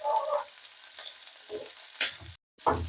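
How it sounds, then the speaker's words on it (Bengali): Capsicum, onion and green chillies fry in a pan on high heat, brief bursts of sizzling and spatula scrapes broken by a short silent gap. "ক্যাপসিকাম আর কাঁচা লঙ্কাগুলো। এটাকে ভেজে নেবো হালকা।"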